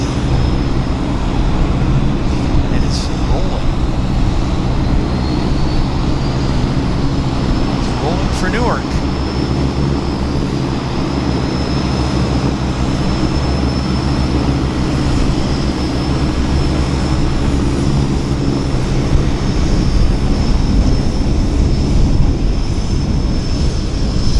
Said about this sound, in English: We've got an Air Canada Dreamliner sitting on the runway.